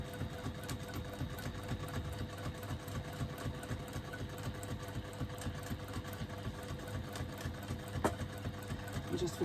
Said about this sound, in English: I'm using Coats Moon thread on a Juki TL98P.